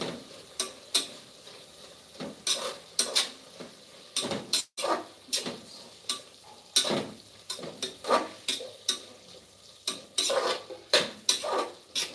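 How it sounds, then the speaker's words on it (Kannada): Fenugreek leaves stirred and fried in a pan on a home stove, a steady run of scraping, clinking spatula strokes against the metal in an uneven rhythm, close and moderately loud with no talking. "ಈಗ ನಾವು ಮೆಂತ್ಯ ಸೊಪ್ಪನ್ನ ಹಾಕೊಳ್ಳೋಣ ಈ ಇದ್ರಲ್ಲೇ ಚೆನ್ನಾಗಿ ಇದಾದ್ರೆ ಫ್ರೈ ಆದ್ರೆ ಫ್ಲೇವರ್ ಚೆನ್ನಾಗಿ ಬಿಟ್ಕೊಳ್ಳುತ್ತೆ"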